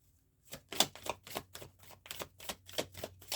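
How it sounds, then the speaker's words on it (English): Tarot cards being shuffled by hand at close range, a quiet run of about ten crisp riffling snaps in a steady rhythm, with no talking. "One more shuffle here, and then we will figure out what our card is."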